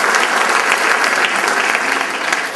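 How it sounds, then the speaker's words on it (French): An audience breaks into loud, dense applause for a performer named Cathy, with continuous clapping from start to finish. "une bonne main d'applaudissements pour Cathy"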